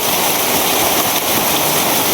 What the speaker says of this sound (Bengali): এই বৃষ্টি মনে হয় না যে সহজে আর ছাড়বো